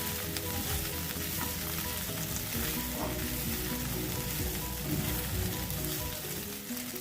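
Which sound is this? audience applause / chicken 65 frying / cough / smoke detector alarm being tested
chicken 65 frying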